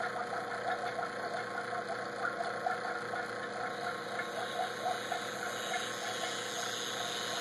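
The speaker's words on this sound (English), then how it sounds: "It'll take a minute for the vacuum to vacuum." A vacuum pump for a plasma demonstration runs steadily, giving a continuous mechanical whir with a faint rapid pulsing, moderately quiet and with no voices.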